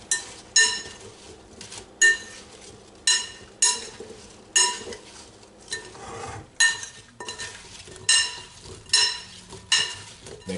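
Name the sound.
stirring apple pie filling with lemon juice in a bowl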